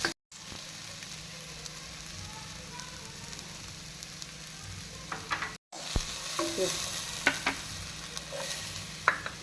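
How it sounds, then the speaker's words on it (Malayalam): Curry leaves sizzling with ginger in a frying pan of oil, a continuous close crackle and hiss with occasional stirring clinks, brief cut midway, no talk. "കറിവേപ്പില ഇട്ട് കൊടുക്കാം."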